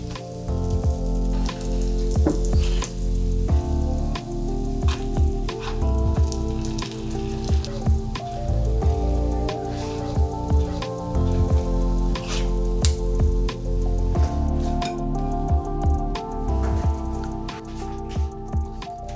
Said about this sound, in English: We're gonna sear our English muffins until they're nice and crispy.